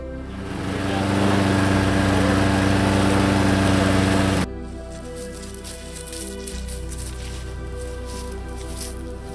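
A lawn mower engine drones loud and near with a steady hum, then cuts out abruptly about halfway through, leaving quieter background noise with a voice in it.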